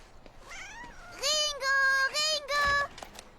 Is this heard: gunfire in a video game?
no